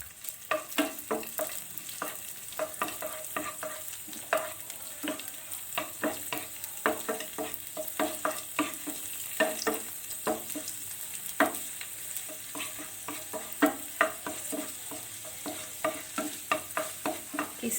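Raisins roast in melted ghee in a pan, stirred steadily with a quiet sizzle under rhythmic scraping and tapping of the spoon, close up and without speech.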